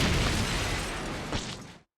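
Heavy explosions from a scene in The Walking Dead, heard as a loud, sustained, rumbling blast with a second burst near the end before the sound cuts off abruptly.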